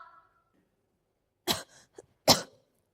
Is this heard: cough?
yes